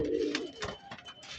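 A racing pigeon coos softly while being fed, a few low, throaty rolling coos close by, faint against light background rustle.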